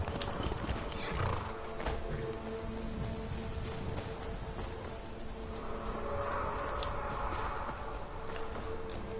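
Horse in Skyrim Special Edition, heard as a faint whinny and hoof sounds buried in a steady dense wash of game ambience and background noise, continuous with no clear separate events.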